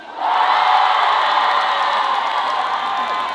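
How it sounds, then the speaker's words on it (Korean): A concert crowd at an apple festival roars with sustained cheering and shouting, loud and steady throughout, like a wall of voices. "요거를 할 때 여러분이 크게 함성을 질러주시면 되는 겁니다"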